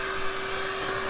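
A vacuum hose sucks debris out of the airbox of an Audi Q7 during an air filter change, giving a steady, close, loud whooshing drone with a constant hum.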